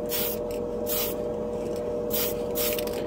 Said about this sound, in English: With the spray cans, it's a little different.